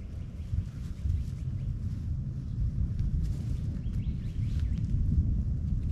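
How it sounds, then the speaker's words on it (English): A storm rolls through a jungle where someone is camping alone, a deep continuous low rumble and wind roar close to the microphone, with faint bird calls high above. "You can hear that storm."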